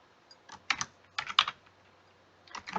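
Keys clack on a computer keyboard in a few quick bursts of typing, crisp and close, with short pauses between clusters.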